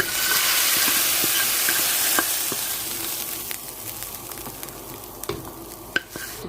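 Garlic for lentil soup hits a hot pan and fries with a loud, steady sizzle at close range. Scattered clicks and stirring scrapes run through it, and the sizzle eases off gradually toward the end.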